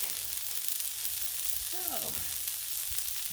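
Burgers sizzling on a Blackstone griddle, a constant close crackling hiss with a brief high whine gliding through the middle and no talking.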